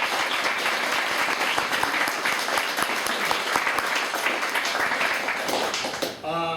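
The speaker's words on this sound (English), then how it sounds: "You want to give them another round of applause" Audience at an MIT talk applauding, sustained dense clapping for about six seconds that tapers off at the end, with some voices under it.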